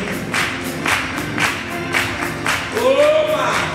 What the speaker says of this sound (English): Oh, clap your hands.